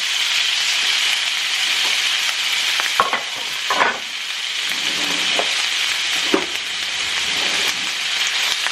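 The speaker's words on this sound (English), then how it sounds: "I got my pan heated up. I went ahead and put all the, I fried up these noodles for a few minutes" Noodles fry in a hot pan with a loud, dense, continuous sizzle and hiss, broken now and then by sharp pops and stirring scrapes, with no talking.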